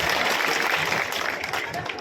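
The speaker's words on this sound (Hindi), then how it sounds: "ताली बजाओ भाई अर्जुन जी दोस्त के लिए।" A crowd claps steadily in a dense, continuous burst at a Meghwal community talent award ceremony in Bhinmal, Rajasthan, with the applause filling the room throughout.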